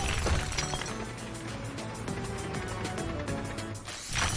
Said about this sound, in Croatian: Bušilica. Savršeni odabir za razbijanje betona.